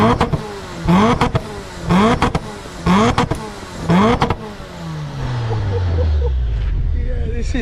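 A 750 BHP Nissan Skyline R34 at a car show, its engine cranking and firing in repeated loud bursts before settling into a rumbling idle, with a faint voice nearby.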